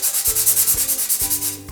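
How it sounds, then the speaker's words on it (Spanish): Sandpaper rubbed briskly over a surface to roughen it for adhesive, a close rhythmic scratching of about a dozen quick back-and-forth strokes, with no one talking. "Qué aburrimiento la lija."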